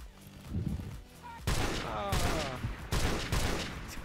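Gunfire from the video game Modern Warfare Remastered, dense broadband bursts that come in loud clusters, rapid shots layered over one another with game effects in the background.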